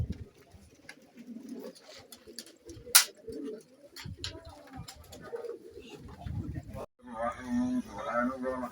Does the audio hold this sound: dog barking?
no